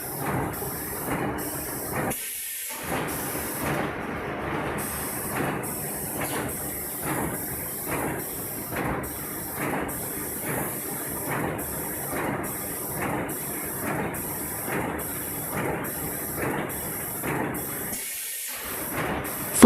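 A semi-automatic tissue paper packing and wrapping machine runs steadily, cutting and packing single pieces with a regular rhythmic chuffing and clacking cycle, moderately loud and continuous with two brief pauses.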